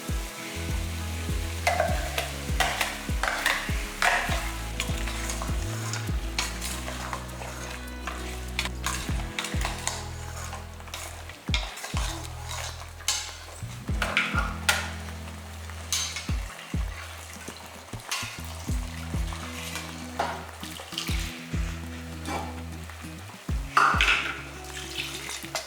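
Ground paste being stirred and fried into a goat head curry in a pot, with repeated scraping and clanking of a spoon over a steady sizzle, close and fairly loud, no voices.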